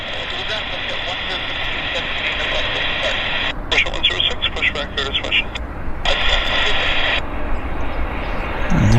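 A WestJet airliner arriving from Calgary and touching down on a misty morning at Vancouver airport, heard as a steady, distant jet roar that swells partway through, with voices talking over it.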